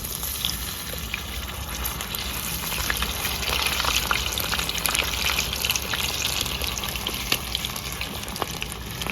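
Pieces of chicken tikka fry in plenty of hot oil, a steady, loud, crackling sizzle with scattered spitting pops running throughout, and no one speaking.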